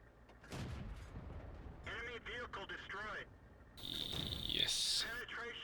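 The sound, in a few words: tank cannon fire in World of Tanks video game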